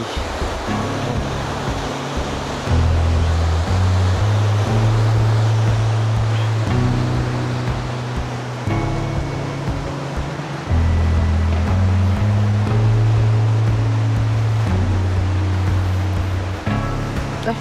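River water near Ubot Falls in Aurora Province rushes steadily and loudly, a broad continuous wash with a low droning hum underneath and no talking.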